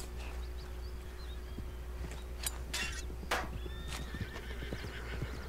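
A wild horse in Red Dead Redemption 2 whinnies with a few loud neighs over steady outdoor ambience, birds chirping faintly and hooves clopping softly in the background.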